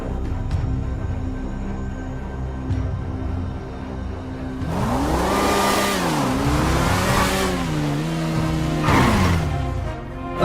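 A motorbike engine in a Free Fire game story revs up after a quiet idle, its pitch rising and falling in several strong swells, loud and close, with no talk over it.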